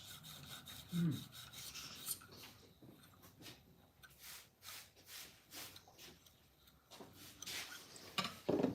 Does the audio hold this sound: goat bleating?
no